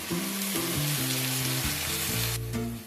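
Tomato paste hits a pan of frying prawns with a loud, steady sizzle, a close crackling hiss running the whole time under low music notes.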